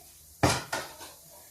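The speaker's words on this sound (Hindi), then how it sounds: "ये कढ़ाई उठा के हम इधर रखते हैं।" A metal kadhai cooking pan lifted and set down on a kitchen surface: one loud close clank followed by a second lighter knock and a brief rattle, alone without talk.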